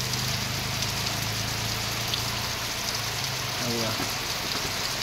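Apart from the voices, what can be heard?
heavy monsoon rain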